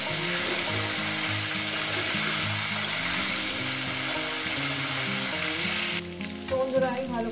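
Potato and cauliflower pieces frying in a pan for a rohu fish curry, a loud, steady sizzle with stirring clatter near the end.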